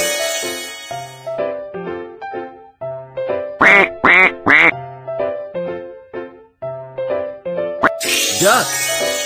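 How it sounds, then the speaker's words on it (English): A cartoon duck quacks three times in quick succession during a kids' hearing-test game, loud quacks riding over cheerful background music that ends with a jingle. "Duck!"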